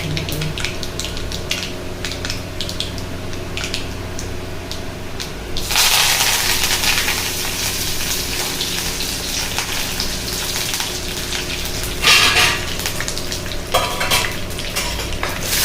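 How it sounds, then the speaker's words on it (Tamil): Mustard seeds spluttering in hot oil in a home kitchen pan while cooking poriyal, a steady crackling sizzle with sudden louder bursts of popping and an occasional stir. "கடுகு பொரிய ஆரம்பிச்சிருச்சு."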